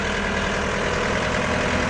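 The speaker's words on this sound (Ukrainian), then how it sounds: "Трактор їде Ямпільський район" A Shifeng 404C three-cylinder tractor with forced hydraulics runs steadily close by, a continuous low diesel rumble with an even idling throb throughout, no voices.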